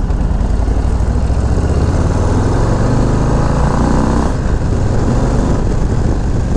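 A 2024 Harley-Davidson Low Rider ST motorcycle is ridden on a local road, and its engine gives a steady, loud rumble. Dense wind roar lies over it throughout, and no one speaks.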